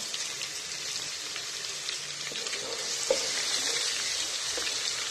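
Steady, soft sizzling and crackling of crushed garlic frying with onions in a pan, with occasional faint clinks of stirring, no voices.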